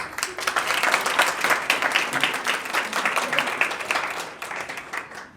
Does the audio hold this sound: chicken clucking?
no